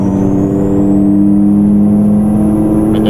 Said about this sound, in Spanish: Creo que se va escuchando más el motor